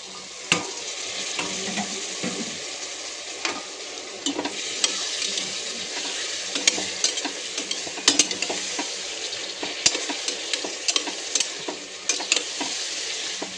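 Vegetables fry with roasted spices in a pan for a vegetable pulao, a constant hissing sizzle broken by irregular clinks and scrapes of a spoon stirring against the pan, close up with no speech.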